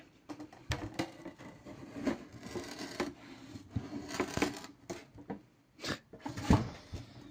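An artisan cuts through a worn work board riddled with pin holes. Close, irregular crunching and snipping cuts come in uneven bursts separated by short pauses.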